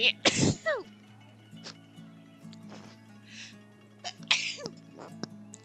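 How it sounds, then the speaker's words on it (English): A person sneezes sharply once, then a second sneeze follows a few seconds later. Both are close and loud, with quiet breathy sounds and faint background noise between them. "He looks like he's sneezing and he caused me to sneeze"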